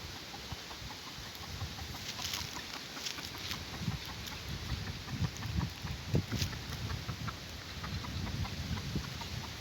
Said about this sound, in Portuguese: Tem uma galinha presa aqui que ela tá choca